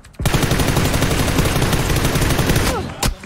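Sustained close-range automatic gunfire from an M416 rifle in PUBG, a dense rapid spray lasting nearly three seconds, loud and near, ending with a couple of sharp final shots.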